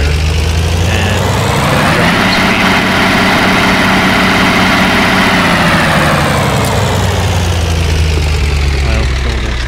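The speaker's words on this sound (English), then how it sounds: "switch our engine mode to operate and feed the diesel some gas" A submarine diesel engine runs on fuel in the UBoatSim simulator, a loud, continuous low drone whose pitch swells and then settles back near the end, with no talking over it.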